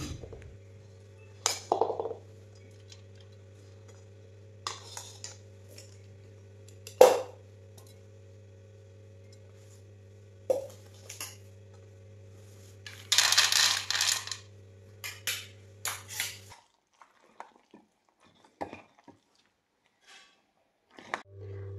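Two people eating khichdi, with scattered metallic clinks of spoons and cutlery against plates, faint and spaced out over a steady low hum, and a small cluster of rattling clatter midway through.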